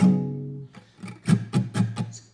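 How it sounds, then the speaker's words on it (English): A ringing guitar chord fades out, followed by four quick percussive muted-string chucks in even rhythm, soft and close. "in between those strums, I'm going to be muting the string and kind of like chucking it."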